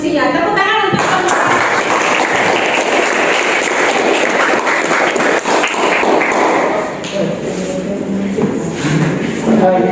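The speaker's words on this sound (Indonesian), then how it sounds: "Tepuk tangan untuk kelompok" Pupils in a classroom clap for a group that has just presented its discussion results, a loud, busy burst of clapping with thuds and shuffling, fading somewhat toward the end as a voice speaks.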